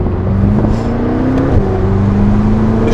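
BMW M6 on budget tires, engine revving up and then stepping down through a gear shift, a loud steady drone that dips and resumes under the cabin.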